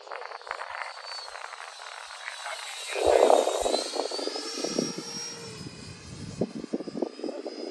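A radio-controlled F-86 model jet flies on a windy day, its turbine whine rising and sweeping in pitch as it passes, with a brief gusty rush midway and faint talk in the background.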